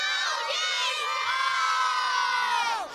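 Young Toronto Blue Jays fans cheering and shouting loudly together, a sustained high-pitched crowd roar of children's voices that carries on for about three seconds before easing off.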